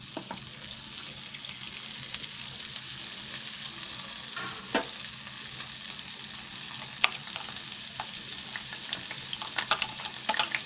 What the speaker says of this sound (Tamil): இதில் வந்து பூந்திகளை போட்டு பொரிக்க போகிறேன்.